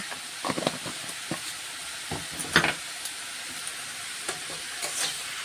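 Pointed gourd leaves fry in a pan with a steady sizzling hiss, while several sharper clinks and scrapes of stirring stand out at intervals, close by and with no voices.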